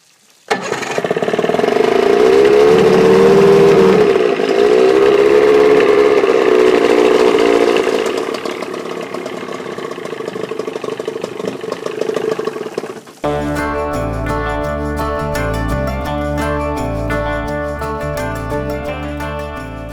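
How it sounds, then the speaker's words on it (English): A 2-stroke outboard motor runs on a garage hose, starting up and holding a loud, buzzing drone whose pitch wavers, then cutting to a steadier, rhythmically pulsing idle for the remaining seconds. "we've let the engine warm up"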